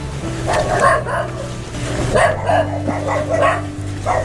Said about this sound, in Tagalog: Andito na may mga aso nila sa malubong sa atin.